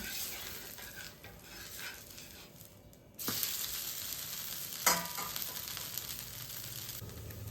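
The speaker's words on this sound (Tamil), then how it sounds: "எண்ணெய் ஊற்றிக்கலாங்க கார தோசை திருப்பி போடலாங்க" A flipped kara dosa fries in oil on a pan with a steady, close hiss of sizzling, broken by a sharp scrape or clack of a spatula a couple of times.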